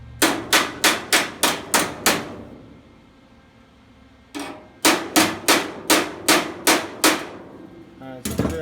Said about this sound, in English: Grab your body hammer.